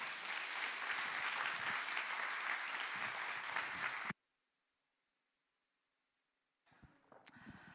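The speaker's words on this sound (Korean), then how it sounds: "박수로 환영하십시다." A chapel congregation at a Korean Baptist theological university claps warmly to welcome a pastor, with loud, dense applause for about four seconds that stops abruptly into near silence, followed by faint shuffling.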